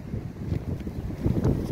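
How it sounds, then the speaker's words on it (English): Wind gusting outdoors, buffeting the microphone with a steady low rumble and irregular puffs, with no voices over it. "A little windy out here."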